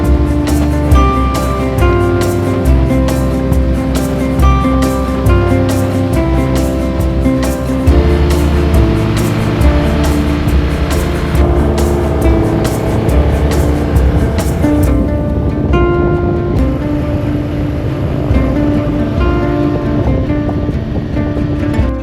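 A Harley-Davidson motorcycle rides through Yosemite in the Sierra Nevada, with a steady, loud engine rumble and constant wind buffeting throughout and no talking.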